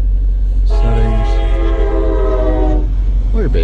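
A train passes beside a car being test driven, its horn sounding a long, loud chord that holds for a couple of seconds over rumbling road and rail noise heard from inside the cabin.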